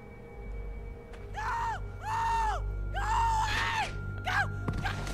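A woman screams again and again in The Walking Dead video game, four loud, drawn-out cries rising and falling in quick succession over a low background hum.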